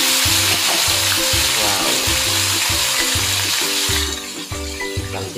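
Pork steak pieces frying in a hot pan, giving loud continuous close sizzling with some stirring and a brief exclamation from a person.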